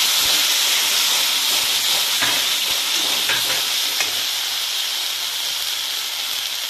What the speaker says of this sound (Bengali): তো আমি সামান্য সাইড দিয়ে একটু জল দিতে পারি যাতে না কড়াই লেগে যায়।